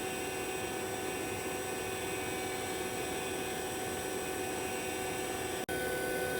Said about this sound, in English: The vacuum pump just got quieter, so I think we're done.